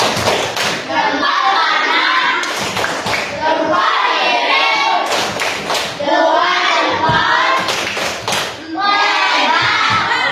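A school class of children claps hands together on a teacher's cue in a rhythmic clapping routine, with loud bursts of group claps mixed with children's chanting voices.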